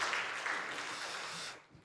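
A church congregation at a Sunday daytime worship service claps in a short, steady burst of applause that fades out after about a second and a half.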